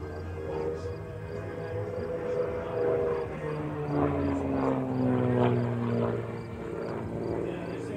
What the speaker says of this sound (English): Now this airplane is the Simon Marchetti SF.260.